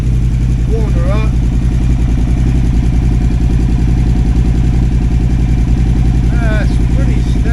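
A KTM 950 Adventure S motorcycle engine, freshly fitted with new carburetors, air intake and rejetting, idles steadily and loudly up close with a low continuous rumble, while occasional voices speak faintly in the background.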